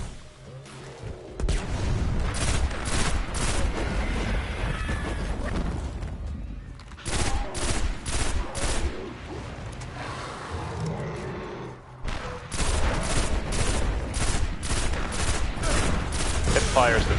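Pulse rifle fire in a shooter game, sustained rapid bursts in several long runs broken by short pauses, loud and dense, with a voice talking over parts of it.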